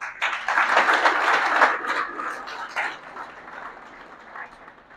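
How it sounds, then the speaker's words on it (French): Audience applause at a graduation ceremony for a Senegalese training campus, a dense wash of clapping that swells early, then thins and fades over a few seconds, with murmuring voices mixed in. "Demander au public d'applaudir chaleureusement Amadou Falba."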